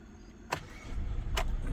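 A 2021 Kia Seltos salvage rebuild running on its original battery: a low, steady engine rumble builds after two sharp clicks or clunks, staying moderately loud and close with no talking.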